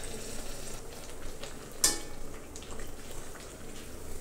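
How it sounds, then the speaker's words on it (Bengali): Bengali oil pitha (poa pitha) batter cakes frying in hot oil, a steady soft sizzle throughout with one brief scrape of a utensil midway, heard close up with no talk. "খুবই ভালো লাগে পিঠা ভাজতে।"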